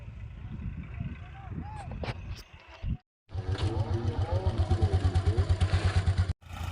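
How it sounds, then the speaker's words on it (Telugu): Large dewatering pump motors run loudly with a steady, rapid pulsing thump, joined partway by a harsher rattling drone, near and continuous with brief cut-offs. "ఇక్కడ ఆల్రెడీ పెద్ద మోటార్లు అయితే రెండు రన్నింగ్లోనే ఉన్నాయి"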